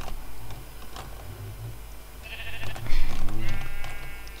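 Sheep bleat in the Minecraft video game, with a few wavering cries over a busy game background that includes faint ticking.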